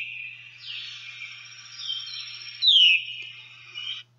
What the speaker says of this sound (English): one that sounds like it's saying veer